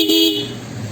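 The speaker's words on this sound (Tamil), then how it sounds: "ஹார்ன் லவுடாக இருக்குது." A relay-wired vehicle horn blasts one loud, steady tone that rings strongly at first and then eases slightly, heard alone with no voices.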